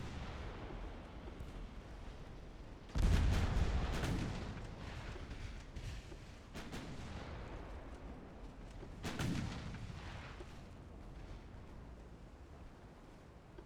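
Battleship big guns fire in the Ultimate Admiral: Dreadnoughts naval game, with a heavy booming salvo followed by a rolling rumble and a second, weaker blast a few seconds later over constant background battle noise.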